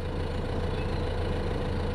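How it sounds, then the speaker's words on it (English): A tractor engine idles in the Farming Simulator 15 video game, a steady, low mechanical rumble that holds even and unchanging throughout, with no voices over it. "Notice it changes, and now my tractor is started."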